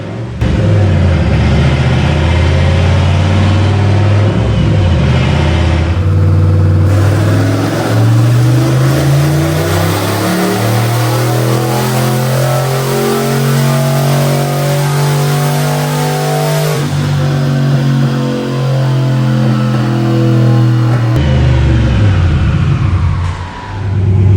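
A turbocharged GT40 302 V8 pulls on a chassis dyno, its loud, close engine note climbing steadily in pitch over about twenty seconds, with a brief dip and shift partway, before dropping off at the end.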